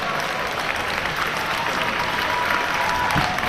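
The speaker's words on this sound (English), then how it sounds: "I think everyone should give a hand for Zak here" A crowd at a wrestling event applauds in a steady, dense wash of clapping that holds at full loudness throughout.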